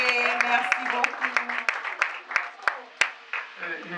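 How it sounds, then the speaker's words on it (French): Audience applause at a certificate ceremony for workshop participants, a steady patter of clapping with sharp individual claps standing out, heard together with talking voices. "Applaudissons, c'est pour les encourager."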